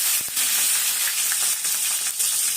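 Asafoetida and garlic fry in hot oil, giving a continuous close sizzle with a few sharp pops near the start, with no talking.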